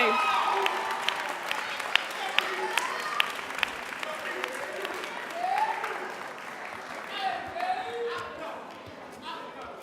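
Graduates at the Pine Manor College commencement receive steady audience applause with a few sharp individual claps standing out, while scattered voices and faint cheers ride over the clapping, which eases slightly near the end.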